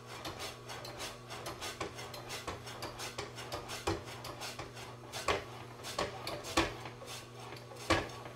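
A knife slicing through meat on a wooden board, with repeated rasping strokes and soft knocks that grow more distinct later, close and fairly quiet with no talking.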